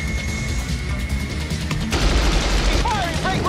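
Rapid machine-gun fire from a pursuing MiG fighter jet crackles in bursts over a loud roar of jet and cockpit noise, with a faint voice in the background.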